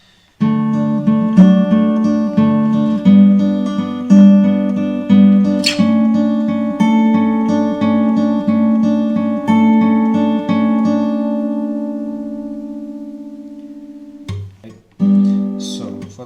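Acoustic guitar plays the first verse of Prateek Kuhad's Kho Gaye Hum Kahaan, steady strummed and picked chords ringing close and clear, a brief pause near the end before the strumming resumes.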